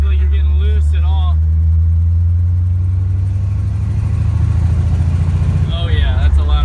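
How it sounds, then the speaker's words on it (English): A 1979 Pontiac Trans Am with a 400 engine rumbles deep and throaty while driving, a loud low exhaust note that swells as it accelerates, with someone talking over it at the start and end. "It's such a deep and throaty sound. I love that exhaust."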